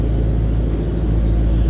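The engine of a 2022 Ford Mustang Shelby GT500 coupe idles with a deep, steady, loud low rumble close by, without talk.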